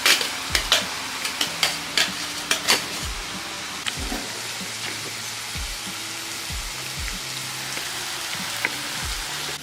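Onions brown in a pan for a boneless chicken gravy. A utensil scrapes and stirs in a string of sharp strokes at first, then a steady close sizzle continues with occasional stirring knocks.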